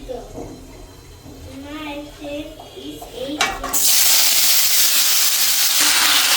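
Vegetables drop into hot oil with cumin and five-spice seeds in a home kitchen, breaking into a loud, steady sizzle that holds to the end, after a stretch of talking.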